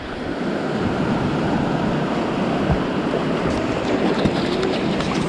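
Ocean waves surge and wash ashore at high tide on a beach, a dense, loud, continuous roar of surf mixed with wind buffeting the microphone, with no voices.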